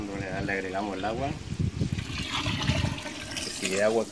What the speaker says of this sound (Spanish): Continuaremos entonces le agregamos el agua.